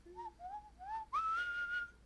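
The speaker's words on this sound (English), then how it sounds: "Good whistle." A person whistles a short tune alone, a few clear rising and falling notes ending on a long sustained tone, close and fairly quiet.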